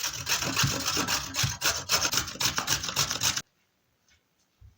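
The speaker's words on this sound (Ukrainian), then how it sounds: "а морквину натрем на великій терці." A carrot is grated on the coarse side of a grater, fast rhythmic rasping strokes heard close and fairly loud for about three seconds, then quiet.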